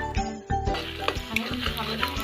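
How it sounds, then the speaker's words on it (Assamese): Chopped green chillies and onions sizzle and crackle in a hot pan, with metal utensil scrapes and stirring knocks cutting sharply through the frying. A voice talks faintly underneath. "কেঁচা জলকীয়াখিনি দি আকৌ 2 মিনিটমান সময় ভাজি থাকিম"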